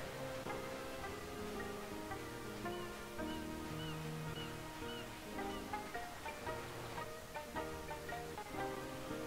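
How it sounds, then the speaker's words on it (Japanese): Ocean waves wash over a sandy beach on a southern island in a relaxed island-life video game. The surf is soft and steady, with layered gentle background music running throughout. "いいねこの波の音が、本当に"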